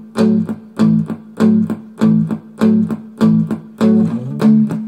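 A lick on a slightly distorted electric guitar, played slowly: a repeating chunky rhythmic figure of short chord stabs in a steady groove, close and clear, with no talking.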